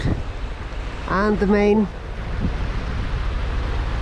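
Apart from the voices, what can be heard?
sailboat motorsailing with engine on low RPMs, waves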